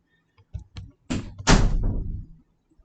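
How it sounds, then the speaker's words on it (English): A door swings shut on its own as wind through an open window pushes it, giving a couple of light knocks followed by a loud, close slam that rings briefly before fading. "my door just shut automatically"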